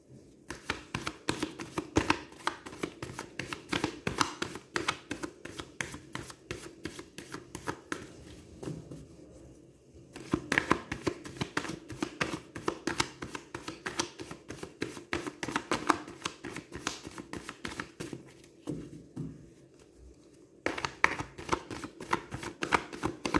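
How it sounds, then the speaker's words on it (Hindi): Tarot cards are shuffled by hand in quick, rhythmic riffles and slaps, close and fairly loud, continuing in bursts with a couple of brief pauses. "तो वो मैं कार्ड शफल कर लेती हूँ सो डैट हमें पता चल जाए।"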